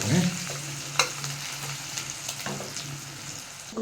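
Onion frying in a pan with asafoetida powder until reddish: a quiet, continuous sizzle with occasional clicks and scrapes of stirring, heard close with no voices.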